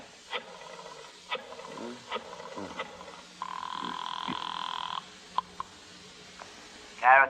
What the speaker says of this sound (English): Cairo Theatrical, Mooney Davis on the phone